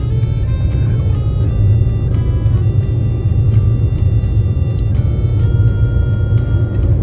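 A car passes on a street in Demak, Indonesia, a steady broadband rumble of traffic and engine noise that stays loud throughout with no clear rise or fall.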